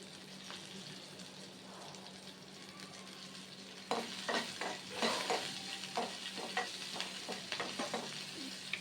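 Dried red chili pieces fry in a home kitchen pan, a steady low sizzle that turns louder at about four seconds, with repeated stirring scrapes and crackling bursts through the rest.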